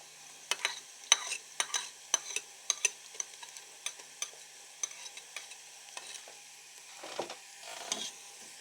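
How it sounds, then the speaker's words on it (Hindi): Close-up sizzling of onions and garlic paste frying in a pan for Kashmiri-style white lobia, with a spoon stirring and scraping in steady strokes and no talking. "अभी हमने इस स्टेज पे अपना पेस्ट लहसुन का वो ऐड कर देंगे।"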